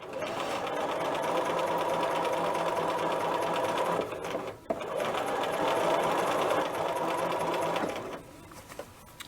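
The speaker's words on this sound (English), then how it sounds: "I'm just going to run another seam around really quick" A sewing machine runs a seam around a dress sleeve, humming in a steady fast rattle with a brief pause midway, then slowing to a stop near the end.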